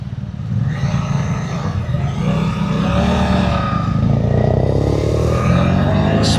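Suzuki GSX-8TT motorcycle rolling along and braking to a stop, a loud close engine and road rumble that dies down as it slows, with wind noise.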